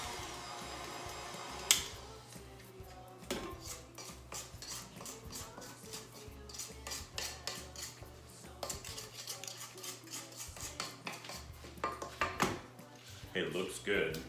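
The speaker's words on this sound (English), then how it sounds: "And scrape the bowl." Scraping a mixing bowl of chocolate cookie dough, with steady scraping and clinking of a utensil against the bowl, close and fairly busy throughout, with a few sharper knocks.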